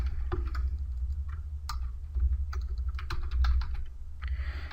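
Keys on a computer keyboard clatter in irregular bursts of quick clicks, close and fairly quiet over a low steady hum.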